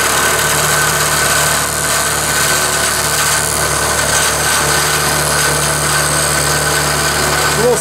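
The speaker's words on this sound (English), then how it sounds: "Let's go ahead and take the cut on it." A milling machine climb milling a thin part held in a vise, producing a constant loud cutting whine and hum with steady machine vibration throughout, close up and uninterrupted.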